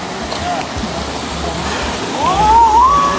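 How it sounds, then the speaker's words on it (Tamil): Water flows down from the mountain in a river at Riverston, Sri Lanka, a continuous broadband rush that grows slightly louder near the end, with a brief whistle-like tone over it. "மலையில் இருந்து அப்படியே தண்ணி வருது"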